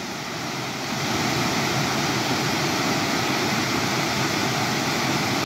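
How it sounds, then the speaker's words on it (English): A small but powerful waterfall on the River Wandle in Carshalton pours with a loud, continuous rushing roar, swelling after the first second and then holding steady and close, with no voices. "On this side, you've got a very powerful little waterfall."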